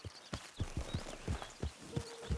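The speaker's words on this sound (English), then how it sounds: "Get back on your horse, ride out of camp." Hooves of a horse in a video game clip-clop at a steady walking rhythm, around a dozen soft thuds, close and fairly quiet, with faint ambient sounds behind.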